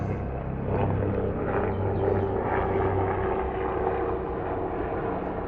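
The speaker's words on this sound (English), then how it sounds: "Helicopter." A helicopter passes overhead above the Parramatta River in Sydney, a continuous low engine and rotor drone that swells slightly and holds steady with no talk.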